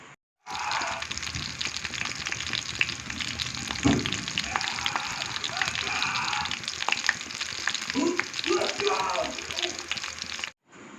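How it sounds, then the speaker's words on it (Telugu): Cut green chilli pieces frying in hot oil crackle and sizzle steadily and loudly for about ten seconds, broken by occasional stirring and clatter in the pan. "ఆయిల్ హీట్ అయింది అందులోకి కట్ చేసుకున్న పచ్చిమిరకాయ ముక్కలు అయితే వేసుకోవాలి వేసుకున్న తర్వాత ఎర్రగా అయితే వేపుకోవాలి"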